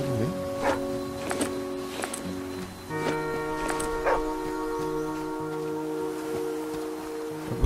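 A dog in The Flame in the Flood video game gives several short barks and yips over a game's sustained musical tones, fairly close and moderately loud.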